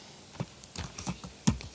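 Irregular clicks of computer keyboard keys typed while programming, a handful of distinct taps spread across a quiet background, close and moderately soft.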